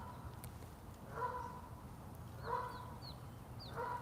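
Geese in Parc de la Frayère, Boucherville call in three short, faint honking bursts spaced about a second apart, set against quiet outdoor background noise.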